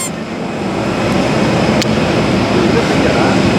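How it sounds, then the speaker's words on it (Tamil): An airliner's jet engine roars at an airport, a steady, loud, close rumble that swells slightly and holds throughout, with a voice faintly mixed in underneath. "ஸோ வந்து பார்த்தீங்கன்னா ஃப்ளைட் கிட்ட போக போகிறோம்"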